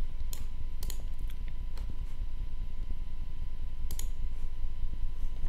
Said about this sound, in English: click on the next.